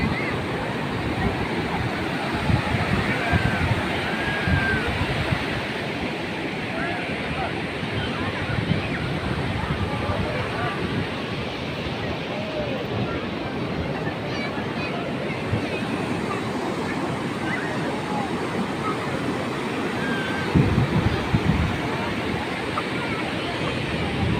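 Ocean waves at Cox's Bazar beach, a continuous roar of surf with wind noise on the microphone and a faint murmur of crowd voices in the distance.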